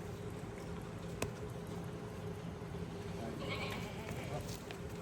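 Goats at a cattle farm, one short bleat heard amid background crowd murmur and people talking throughout, with a livelier stretch of noise near the end.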